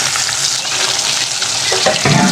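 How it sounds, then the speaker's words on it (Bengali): Rohu fish frying in a pan of hot oil gives a steady, loud sizzling hiss throughout, with a few brief clinks near the end and no voices. "এরকম করে সবগুলো ভেজে নেবো মাছগুলো ভাজা হয়ে গেছে"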